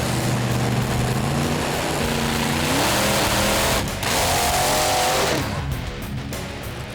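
A revving engine passed off as a toy truck's rises and falls in pitch with squealing, race-car-like acceleration, loud and continuous for several seconds with no talk over it.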